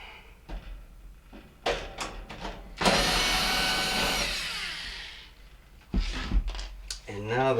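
Phillips mounting screws are backed out of the heater box on a Fisher & Paykel dryer cabinet, giving a close whirring drive lasting a couple of seconds between clunks and handling noises, with a voice talking over parts of it.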